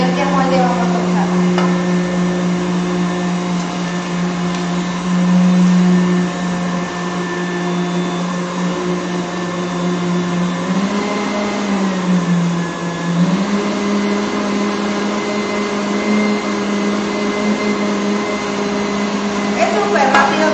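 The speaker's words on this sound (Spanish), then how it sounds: "Es súper rápido con estas batidoras" Electric hand mixer beating tres leches cake batter, a loud steady motor whir running continuously close by with slight pitch dips midway as the beaters work through the mix.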